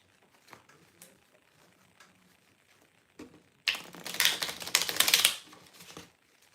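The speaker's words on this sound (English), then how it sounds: "let's shuffle the deck a bit." A deck of cards is riffled and shuffled by hand at close range, a loud fluttering burst of a couple of seconds after quiet soft handling and faint voice murmurs.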